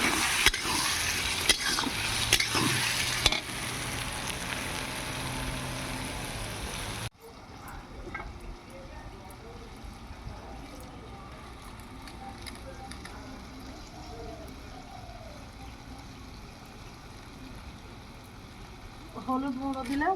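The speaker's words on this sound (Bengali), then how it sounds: "আদা রসুনটা দিয়েছি, ভালো করে ভেজে নে।" Ginger-garlic paste frying with onion and tomato in a pan at a small winter rooftop picnic: a loud, dense sizzle for the first seconds, then a quieter ongoing crackle with stirring and faint voices near the end.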